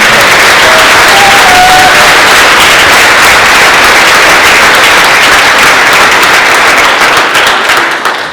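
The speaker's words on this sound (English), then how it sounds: "Can we give them another round of applause for them?" Concert audience giving a middle school orchestra a loud, dense round of applause, steady sustained clapping from a large crowd that fades slightly at the very end.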